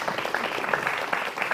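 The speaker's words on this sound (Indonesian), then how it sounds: "tepuk tangan buat Al-Bukhari" Crowd applause for Al-Bukhari at an Islamic religious gathering, a steady wash of clapping lasting under two seconds, with faint voices mixed in.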